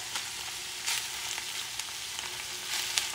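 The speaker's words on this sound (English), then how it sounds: "I just mixing things up and I'm using the pan because the pan is hot." Cauliflower rice and cooked lamb are stirred around a still-warm pan with the heat off, giving a soft, quiet sizzle with a few brief scraping bursts, no voices.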